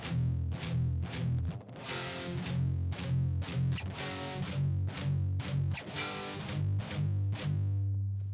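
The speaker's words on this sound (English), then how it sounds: "Let the full power chord ring out, then palm mute the 2-string version of the power chord for pedal tones." Heavy metal rhythm guitar with loud distortion alternates ringing power chords with tight, chugging palm-muted pedal tones in a steady driving pattern, dense and close throughout with no talking.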